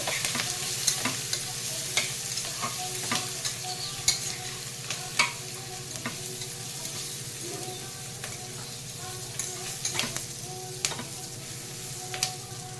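Dal frying in a pan for Andhra tomato pappu sizzles with a constant hiss, while a spoon stirs it and scrapes the pan in scattered clicks and knocks throughout.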